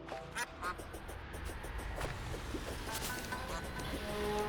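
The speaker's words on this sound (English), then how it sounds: "Yeah, I hear ducks." Ducks quacking in the Terraria video game, repeated short quacks over a busy game soundscape, moderately faint.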